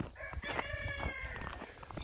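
A rooster crows once among chickens, a clear drawn-out call lasting about a second over a low background of farmyard noise, fairly faint and at moderate distance.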